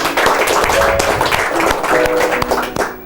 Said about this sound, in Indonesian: Tepuk tangan Bapak dan Ibu.